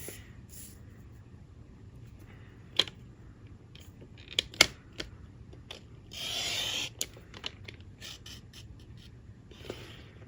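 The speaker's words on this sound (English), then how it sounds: "So we're going to cut the two long sides again." Paper card being cut for a flip book card, with quiet scattered snips and clicks and a brief rasping cut partway through, all soft and close in a hushed room.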